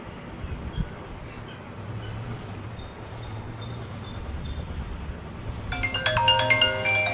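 Over a steady low background hum, a bright electronic ringtone melody suddenly starts playing loudly from an iPhone 12 mini's speakers.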